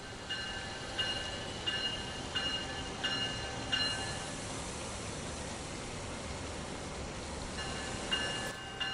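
An Amtrak train hauled by an ACS-64 electric locomotive sits at Trenton station, a steady electrical hum and whine with repeated short tonal beeps pulsing about once a second, and no talking.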